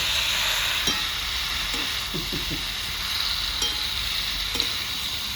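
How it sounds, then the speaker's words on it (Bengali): Drained soaked soybean chunks frying in a hot pan for a village-style soybean and potato curry, giving a loud continuous hiss with a few scraping stirs, close up and with no talking. "ভিজিয়ে রেখেছিলাম সয়াবিনটা জলটা গেলে নিলাম এবারে সয়াবিনটা ঢেলে দেবো"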